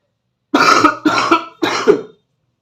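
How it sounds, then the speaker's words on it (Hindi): Three distinct coughs in quick succession, close and loud, each a short harsh burst separated by brief pauses. "खांसी हो रही है थोड़ा।"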